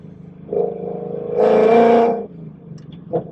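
A tuned 2020 Ford Mustang GT revs and pulls hard, its engine note swelling into a loud, sustained roar for about a second before dropping back to a rumbling idle, with a brief blip at the end.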